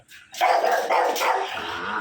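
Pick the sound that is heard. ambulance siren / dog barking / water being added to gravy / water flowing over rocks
dog barking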